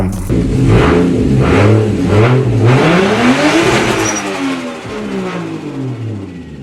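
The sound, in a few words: RB26DETT engine revving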